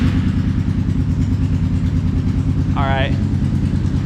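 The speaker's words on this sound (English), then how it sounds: "This exhaust is loud." Loud, steady ATV exhaust rumbling close by with a rough, pulsing drone, and a brief voice cutting in over it.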